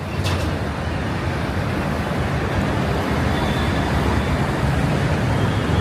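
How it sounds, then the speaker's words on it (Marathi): A busy morning street has municipal garbage dumper trucks among taxis, auto rickshaws and pedestrians, near metro construction. A continuous low roadway rumble and roar holds steady throughout, with no single vehicle standing out and no talk. "महानगरपालिकेचे बघा हे डंपर"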